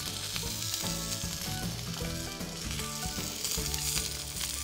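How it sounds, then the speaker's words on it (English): Olives and garlic sizzle in a frying pan as they warm, giving a constant, even crackling hiss with a tonal background hum underneath. "Just warming them up in a frying pan liberates all of their oils and all of their fragrances"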